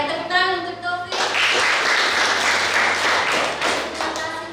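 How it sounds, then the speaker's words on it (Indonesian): A classroom round of applause for a student named Taufik, a burst of clapping from a small group lasting a few seconds, with a teacher's voice talking before and after it. "tepuk tangan untuk Taufik"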